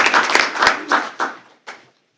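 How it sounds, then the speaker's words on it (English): A few people at a school board meeting clap, a sparse handful of close claps that thin out into isolated last claps and stop within two seconds. "get a big round of applause for Ms."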